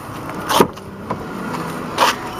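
Two short whirring power window motor pulls, a few seconds apart, over a quiet hum inside a parked 2011 Chevrolet Camaro.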